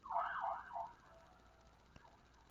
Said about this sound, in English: very often my sessions are interrupted by sirens